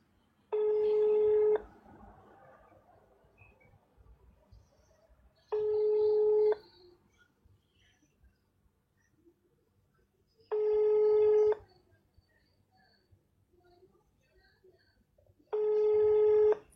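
A telephone ringing repeatedly on a call to a restaurant that no one answers, four evenly spaced electronic ring bursts with quiet gaps between them and faint background noise.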